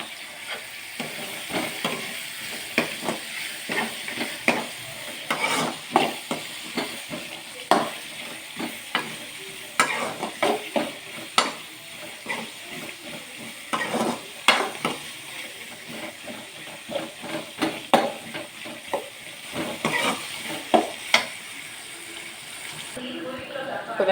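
Onions, crushed garlic, green chili and curry leaves sauté in oil for a fish curry, a steady close sizzle punctuated by frequent spatula scrapes and stirring knocks throughout.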